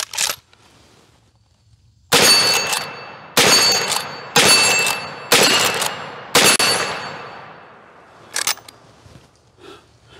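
A Miroku Winchester 1892 lever-action rifle firing .357 Magnum, five loud sharp shots about a second apart with ringing decay, preceded and followed by fainter metallic clicks of the action.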